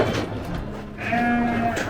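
Sheep bleating on a livestock farm, a single clear drawn-out bleat rising near the end over a steady background murmur of the flock.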